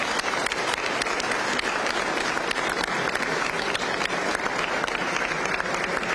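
A crowd at a welcome-home event for Romania's Olympic team applauds steadily, a dense, even wash of many hands clapping for several seconds with no talk over it.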